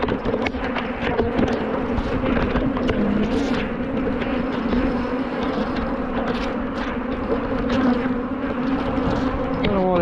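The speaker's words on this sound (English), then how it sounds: "Giant angry bees." A dense cloud of angry honey bees buzzes loudly and continuously around a crowded, brood-heavy hive, close by with individual bees whizzing past, no voices.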